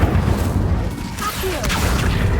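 A fire spell cast in the video game Hogwarts Legacy: a dense, roaring burst of flame with a deep rumbling boom, sustained and fairly loud for a couple of seconds.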